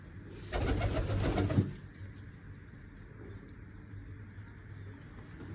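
Pigeons give one clear, close burst of throaty cooing lasting about a second over a quiet, steady background.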